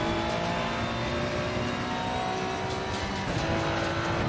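A high-pitched GT race car engine in Assetto Corsa Competizione screams steadily at high revs, loud and continuous, with slight pitch shifts and a faint echoing quality.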